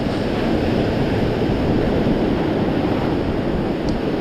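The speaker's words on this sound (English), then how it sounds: "A bit too much wavage." Sea waves crash and wash continuously onto a beach during early-morning fishing, a loud, dense roar of surf with wind, no voices.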